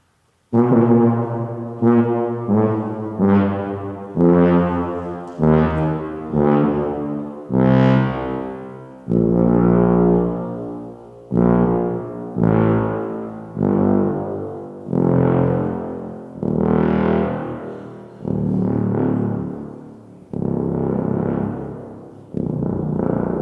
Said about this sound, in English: play the tuba, the lowest, biggest instrument in the group